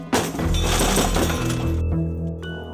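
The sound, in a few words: firewood thrown through sliding glass door, glass shattering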